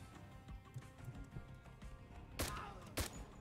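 Gunshots in the tactical video game Door Kickers 2: two sharp reports close together near the end, preceded by softer scattered thuds and low background activity.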